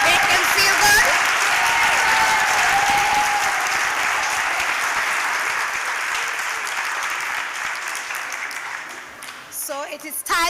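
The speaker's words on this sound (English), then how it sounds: "So give them a clap." An audience at a primary school spelling bee competition claps loudly and continuously for the participants, the applause thinning gradually toward the end as a voice briefly cuts in.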